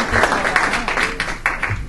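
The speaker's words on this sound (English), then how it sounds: "if we can give another round of applause to Tammie Souza" Audience at a presentation gives a short burst of applause, with individual claps standing out sharply over a thinner background of clapping and a little murmuring.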